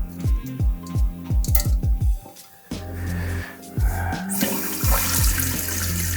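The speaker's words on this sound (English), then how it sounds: "I pulled the lever and it didn't flush it all the way" A toilet lever is pulled and the flush fails to clear fully, giving a run of rhythmic gurgling glugs from the bowl followed by a steady loud rush of water as the tank refills, close up with no talking.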